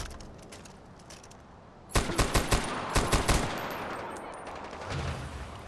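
Burst of gunfire in the Far Cry 4 video game: after a quiet stretch, a loud rapid volley of about a dozen sharp shots cracks close by, followed by a lingering rumbling tail, with no talk.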